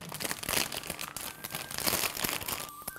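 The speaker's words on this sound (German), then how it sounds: "das Tütenrascheln beim Chipsessen" A bag of potato chips crinkles and rustles up close as hands fold it, giving dense irregular crackling that runs continuously with sharp crunchy bursts.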